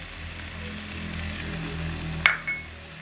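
Green chilli, ginger, cumin and pepper paste fries in a pan with a low, steady sizzle, followed by a couple of sharp clinks from a utensil near the end.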